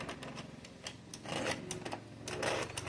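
An ADDI 46 knitting machine knits rows with a quick rattling clatter of needles and carriage, a steady mechanical chatter that grows louder in two surges, close and without talk.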